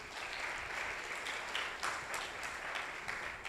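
A church congregation on its feet applauding during a worship service, a steady wash of many hands clapping at moderate distance with no talk over it.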